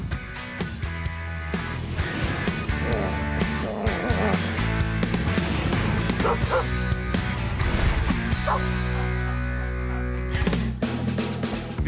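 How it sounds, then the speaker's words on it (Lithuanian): A small dog barks loudly and repeatedly indoors, sharp yapping bursts over a busy background of music, continuing for about twelve seconds. "Garsiai loja."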